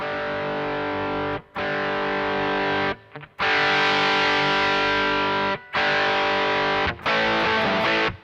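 An electric guitar through a Sonicake Rude Mouse distortion pedal rings out in long, thick, saturated chords, cut by a few brief pauses and quick re-attacks, loud and close with no voice.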